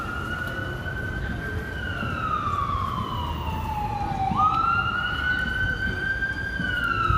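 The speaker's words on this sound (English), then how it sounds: "Ambulance is coming by." An ambulance siren passes along a Manhattan street in New York City, a loud wailing tone sweeping down and then back up as it goes by, with street traffic rumbling underneath and no talking.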